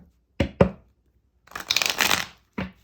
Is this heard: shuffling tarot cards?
yes